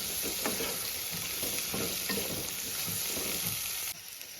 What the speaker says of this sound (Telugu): ఉల్లిపాయ అనేది బాగా వేగాలండి.